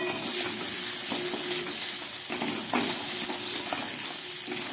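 Tengra fish frying in a pan over low gas heat, a steady close sizzle and hiss with a few soft clicks of stirring, no voices.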